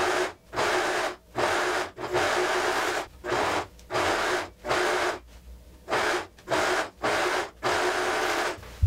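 An overlock serger stitches the armhole of a lab coat in a run of short, steady whirring bursts separated by brief pauses, close and fairly loud with no talking.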